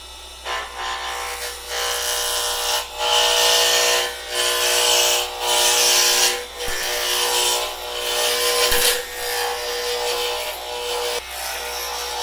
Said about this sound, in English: Roughing gouge.